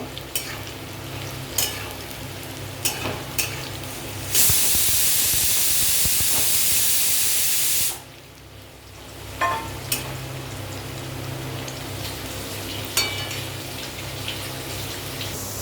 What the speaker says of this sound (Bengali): আলুটা একটু হালকা ফ্রাই করে নেব।